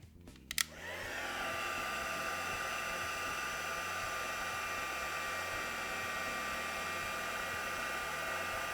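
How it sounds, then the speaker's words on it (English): A heat tool warming embossing powder, a steady close whooshing blower hum that starts after a couple of quick clicks and then runs unbroken. "what I'm going to do is actually warm that embossing powder up again"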